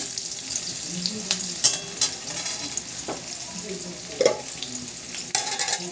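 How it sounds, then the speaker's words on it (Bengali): Onions sizzle and fry in a pan while being browned for a desi chicken kosha, with steady crackling broken by sharp stirring scrapes of a spatula against the metal. "এবার পেঁয়াজটা একটু ভাজা ভাজা হয়ে গেল, বাদামি বাদামি কালার এলেই হবে।"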